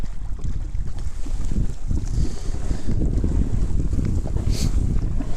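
Strong wind buffeting the microphone on Pine Flat Lake while kayak fishing in winter, a constant low roaring rumble with gusty surges and faint lapping water, loud and close, no talking.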